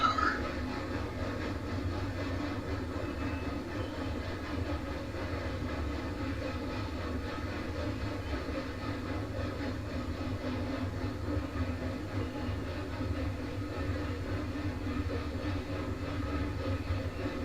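Freight train under heavy throttle in Railroads Online, climbing a 4% grade at walking pace on a snowy day: a steady low rumbling engine drone with continuous rolling noise, unbroken throughout with no talk.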